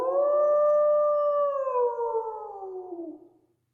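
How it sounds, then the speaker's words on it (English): A long, steady canine howl from a played recording, loud and sustained before slowly sliding down in pitch and fading out after about three seconds, heard alone. "Whenever I listen to that howl, doesn't it sound like someone who likes to look for Bigfoot?"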